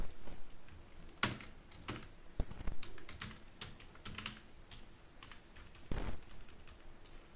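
Steady clatter of keys on a computer keyboard as text is typed into Microsoft Word, with irregular bursts and a few louder keystrokes, close and alone without any talking.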